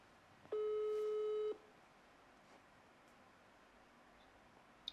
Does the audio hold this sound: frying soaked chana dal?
no